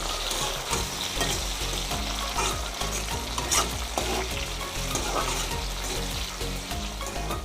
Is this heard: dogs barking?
no